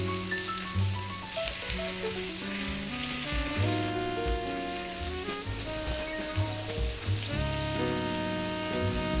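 Thick pork chops fry in a pan after browning on one side, giving a continuous sizzle that sits under prominent melodic background music throughout.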